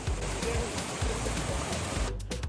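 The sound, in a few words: waterfall at Pinsal Falls, Abra, Philippines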